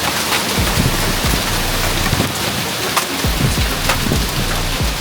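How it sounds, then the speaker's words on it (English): Heavy rain roars steadily through a crazy thunderstorm at an off-grid homestead, with deep low rumbles of thunder rolling underneath and occasional sharper splashes, no one speaking. "this thunderstorm is crazy"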